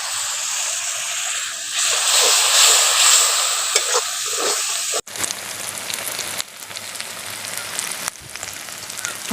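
Kashmiri chili powder and a splash of water hit hot oil for a chicken masala, giving a loud, steady sizzle with stirring scrapes, then an abrupt cut to a quieter, crackly frying sound.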